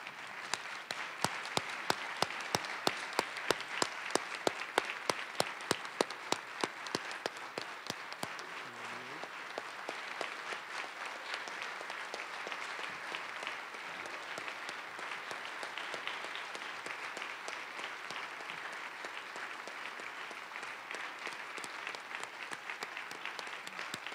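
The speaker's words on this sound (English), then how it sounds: "let's give them one more round of applause" Sustained applause for award winners standing at a Mandel Center awards luncheon, a long even wash of many hands clapping, fairly faint and distant, with a few sharper claps near the start and little else over it.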